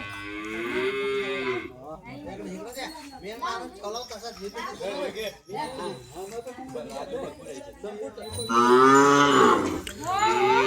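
Bulls moo loudly at a Bail Pola village festival in Satara, with long calls opening and closing the stretch while crowd chatter and speech carry on in between.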